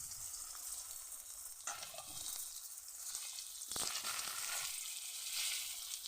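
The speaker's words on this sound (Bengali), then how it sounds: "ছেলের মাছটা বেশি কড়া করে ভাজবো না, হালকা করেই ভেজে নেবে।" A piece of fish fries lightly in a pan over a strong flame, a soft but clear sizzle broken by repeated spatula scrapes and stirring bursts.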